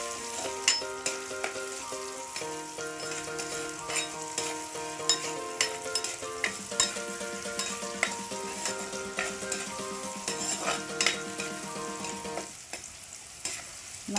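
Salted fish curry base sautéing in a pan with steady frying sizzle and repeated stirring scrapes, continuous and close, with background tones running throughout and no talk.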